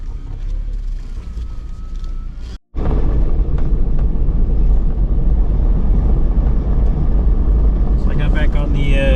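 Overland vehicle rolling along a main gravel road in Oregon, a heavy, continuous rumble of tyres and engine close up, broken by one brief dropout before the noise resumes just as loud.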